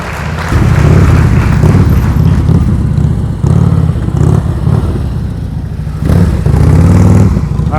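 A motorcycle idling through a slow-speed turn during a riding-skills practice session, its loud close engine rumbling steadily with small throttle swells.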